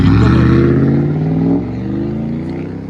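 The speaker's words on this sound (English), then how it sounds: "Fully straight pipe with the Exhaust Addicts 5-inch tip" A straight-piped 2004 Lexus GX 470 with a 4.7L V8 and a 5-inch exhaust tip revs loud and close, a deep throaty roar that rises, then eases off into a rumbling idle.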